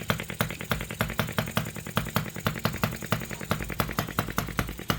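An OKMO 1110 miniature replica of a 1950s Japanese engine runs at medium speed, loud and close, with rapid, even firing pulses and a rattling mechanical chatter, and no talk.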